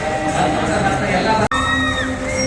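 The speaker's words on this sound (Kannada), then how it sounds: "ಚಪ್ಪಾಳೆ ಮುಖಾಂತರ ಅಭಿನಂದಿಸಬೇಕು." An audience at a government women's college annual gathering cheering and whooping, a dense crowd roar with high shouts rising over it, loud and close throughout.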